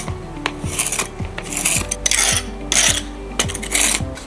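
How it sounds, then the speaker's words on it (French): A stiff brush scrubs weeds out from between paving stones in a garden, with repeated rough rasping strokes, loud and close, alongside a low mechanical tonal hum. "J'utilise un système mécanique, j'utilise cette brosse qui marche bien, là, entre les pavés."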